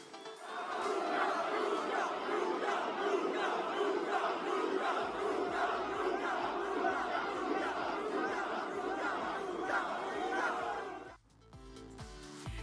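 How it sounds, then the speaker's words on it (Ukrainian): Football fans in a stadium crowd chant a player's name, a loud sustained roar of many voices with rhythmic chanting that cuts off abruptly near the end. "Любов до Модрича фани демонстрували голосом."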